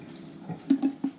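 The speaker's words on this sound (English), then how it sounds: "I'm just going to drain my eggs." Hot water drains from a pan of freshly boiled eggs, a short, quiet run of splashing and gurgling with a few louder splashes near the end.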